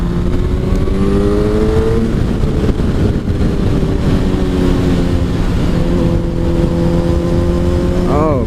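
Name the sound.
motorcycle running with swapped Gsxr engine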